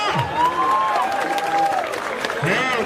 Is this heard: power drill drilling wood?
no